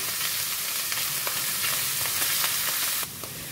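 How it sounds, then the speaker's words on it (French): Mushrooms sauté in a pan, giving a close, steady sizzle with small crackling pops that drops slightly in level near the end, with no talking. "les champignons, ça va commencer à sauter. Je fais revenir aussi"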